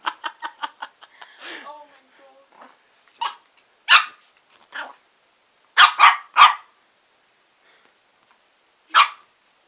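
A small shih tzu gives a rapid string of high yips, then scattered sharper barks with pauses between, close and clear.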